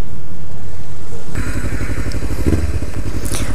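A 2014 Honda Grom motorcycle ridden: after a quiet start the small engine cuts in loudly and steadily with a throbbing, buzzing drone and wind rush, close and continuous.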